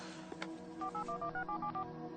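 A telephone keypad dialing, a quick run of about nine separate tone beeps in a steady rhythm, fairly faint, heard alone.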